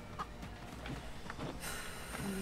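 A chicken in the Moving Out video game clucks in a few short, moderately loud bursts over game background noise, followed by a brighter burst of hiss near the end.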